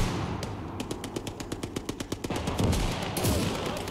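Rapid automatic gunfire from WWII Eastern Front combat in Call to Arms - Gates of Hell: Ostfront, a dense burst of evenly spaced shots that gives way to heavier booming and rumble, loud and close with no talk.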